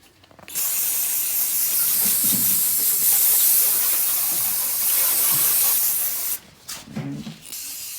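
Brake cleaner sprays onto the rear brake calipers of a 9th-gen Honda Civic Si: a long, steady, close hiss of about six seconds, then a brief, shorter burst.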